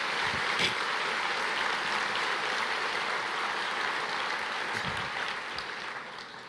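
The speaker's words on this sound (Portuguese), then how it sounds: "Você pode aplaudir o Senhor." Congregation applauding during a church sermon, a steady wash of clapping hands that holds for several seconds and gradually tapers off toward the end.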